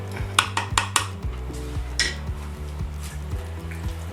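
Small glass preserving jars being handled and cleaned in a kitchen, a quick run of sharp clinks and taps at the start, then quieter scattered knocks over a steady low hum.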